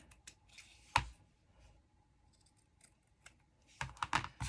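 Scissors snip paper trimming a toilet-paper-roll craft, a few short crisp cuts close by, one near the start and a quick cluster at the end, with quiet between.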